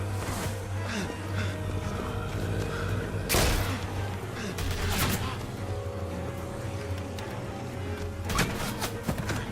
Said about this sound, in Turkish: Adamlar bana ateş ediyor ya.